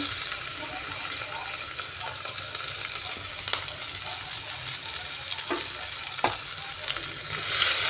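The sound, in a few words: chopped onion and ginger sizzling as they fry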